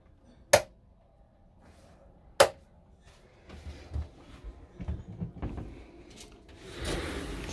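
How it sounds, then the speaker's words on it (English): A sliding door inside a compact Challenger S194 motorhome gives two sharp, close clicks, followed by softer rattling and rustling as it slides open. "Sliding door."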